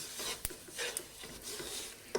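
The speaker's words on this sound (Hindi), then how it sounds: "सब मसालों को अच्छे से मिक्स कर लेंगे।" A spoon stirs spices through a dry oats and cornflakes mixture for baked Diwali snacks, giving soft scraping and rustling with a few sharp clinks of spoon on bowl, close and fairly quiet, with no talking.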